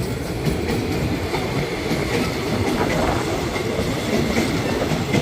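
A southern line passenger train passes the Bang Sue curve, its steady clickety-clack of wheels on rails loud and close, a continuous rolling rumble with faint wheel squeal throughout and no talk.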